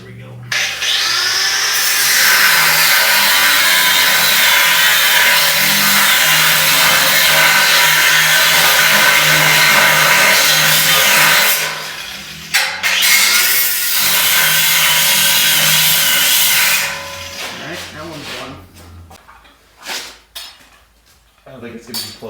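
A Norton abrasive cut-off wheel grinds through metal in a close, loud, continuous high screech, pausing briefly and resuming before winding down; speech can be heard during the cutting.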